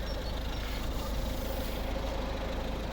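The 1.6-litre D2 diesel engine of a 2012 Volvo S40 idles steadily, a low continuous rumble with an even throb, close by and with no voices over it.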